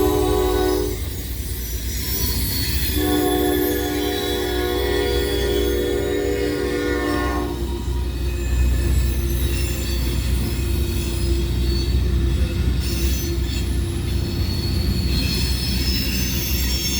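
A freight train rolls past close by with loud squealing wheels and a sustained horn blast, steady rail rumble throughout, cars including large 86-foot boxcars trailing behind a grain train.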